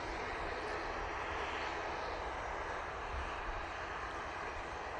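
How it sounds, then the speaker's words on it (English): A Virgin Atlantic Airbus A330 departing Manchester Airport for London Heathrow, a sustained, steady jet engine roar at moderate distance, unbroken and without voices. "that Virgin Atlantic A330, it's going off to London Heathrow, mate"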